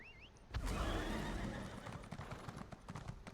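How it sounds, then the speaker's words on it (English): In the Elder Scrolls Online video game, a horse gives a loud, close whinny. Then hooves start up with a rapid, steady clip-clop at a gallop, without any talking. "My horse."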